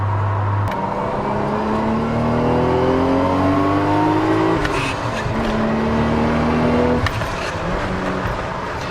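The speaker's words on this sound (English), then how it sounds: "So it does rip through the RPMs pretty crazy" A Toyota Mark II engine revs hard and loud with no talk, its pitch sweeping up through the RPMs in repeated climbs, each ending in a sharp drop as it shifts or lets off.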